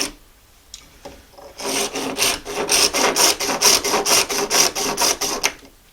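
A Shinto rasp files bone while a fish hook is carved by hand, starting with a few light scrapes and then settling into a loud, close, steady back-and-forth rasping of about a dozen even strokes.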